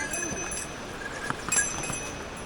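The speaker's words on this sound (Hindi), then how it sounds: "हट गया क्या घोड़ा" Horse hooves clop faintly on hard ground on the rain-wet route to Yamunotri, a few uneven strikes amid outdoor background noise, with voices murmuring nearby.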